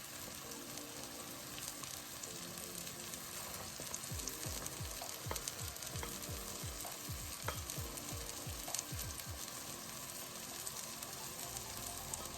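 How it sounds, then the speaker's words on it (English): Onions, peppers and garlic sizzle in a pan, a steady close crackling fry with stirring scrapes through the middle, alone without talk. "we're going to simmer these onions, peppers, and garlic for about maybe, I'll say 2 to 3 minutes"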